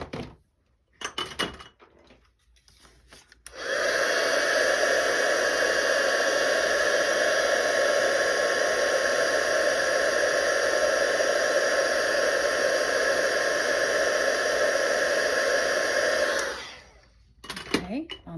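A heat tool blasts a steady, loud airy roar for about thirteen seconds while melting white embossing powder on a handmade gift card holder, with brief handling clatter before and after.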